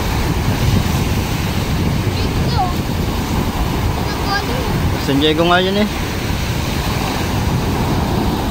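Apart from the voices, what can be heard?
typhoon waves and wind at sea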